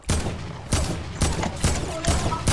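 Rapid bursts of gunfire from the video game Fortnite, a battle royale match, with several loud volleys in a broken rhythm close up and no talk over them.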